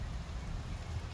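Light mountain drizzle falls steadily, a soft continuous patter and hiss of fine rain with a low rumble underneath, evenly sustained and fairly faint, with no one speaking.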